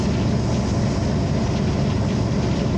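The Hazara Express rumbles by close at hand near Shorkot, Pakistan, a loud, unbroken low roar of rolling wagons with no voices.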